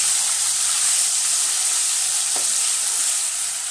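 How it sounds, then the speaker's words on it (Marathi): Spiced potato filling fries loudly in a pan with a steady close sizzle and hiss, and a faint scrape of stirring comes partway through. "सारण जरासं हलवून घ्यावं."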